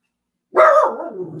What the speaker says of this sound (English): No barking now.